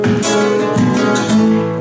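A flamenco guitar played with the strings muted gives a brief, dense strummed sound with rhythmic pulses, loud and close.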